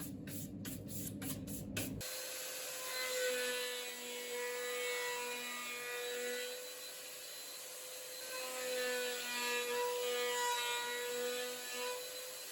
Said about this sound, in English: went on to use the most terrifying tool in my workshop, the router table